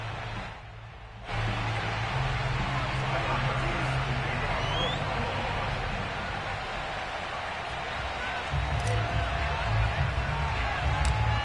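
A Buffalo Bills home crowd in an EA Sports football video game, before a matchup with the New England Patriots, roars in a steady, dense wash of cheering that swells slightly after the first second and holds loud throughout.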